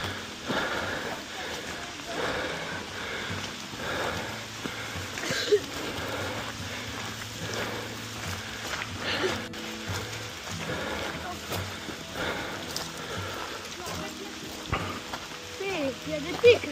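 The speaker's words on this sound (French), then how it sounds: "oh, il pleut énormément là." Heavy rain pours down steadily in woods under trees, a dense, constant patter of drops on leaves and surfaces, with people talking over it.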